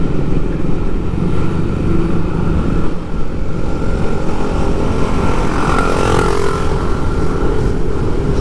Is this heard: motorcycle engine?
yes